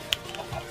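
A single brief cluck from a chicken in Minecraft, a quick soft blip over faint game background.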